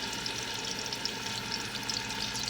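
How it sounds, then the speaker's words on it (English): Chicken pieces sizzle while browning in a pan for asopao con pollo, giving a steady, close crackle of frying that stays even throughout, with no voices. "now you can hear it sizzle"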